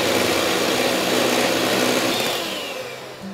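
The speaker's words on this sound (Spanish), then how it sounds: "Vamos a empezar batiendo las claras. Las claras se baten a punto de turrón." Electric mixer beats egg whites to stiff peaks for a tres leches cake, a loud continuous motor whir with a high whine that fades slightly at the end.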